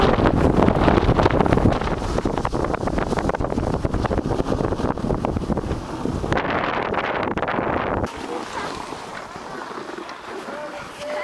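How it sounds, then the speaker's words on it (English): Strong gusts of wind buffet the microphone on a cold, blustery ski slope, a loud continuous roar that eases slightly toward the end. "it's very cold and blustery"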